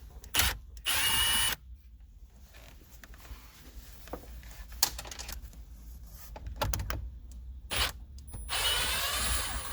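Power driver backing out a T20 Torx screw on a 2013-2016 BMW 3 Series F30 center console, with two short loud whirring bursts at the start, quieter clicks and handling, then another longer whir at the end.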